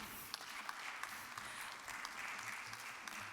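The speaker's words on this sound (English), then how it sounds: "Please, a round of applause for her as she makes way" Faint, distant applause rises from the audience at a green industrialization solutions session as a solar alliance speaker walks up. The soft, even clapping runs throughout with no voices over it.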